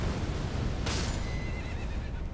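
A horse neighs once in an Elden Ring Shadow of the Erdtree battle, a short burst of whinnying rising over constant low game noise and rumble.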